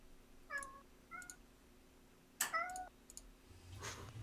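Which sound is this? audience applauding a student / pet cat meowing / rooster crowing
pet cat meowing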